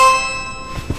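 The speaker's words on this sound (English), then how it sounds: "I started getting a lot of doorbell rings around nighttime." A single bell-like chime rings out and decays over about a second, fairly loud and close, followed by a couple of faint soft thumps.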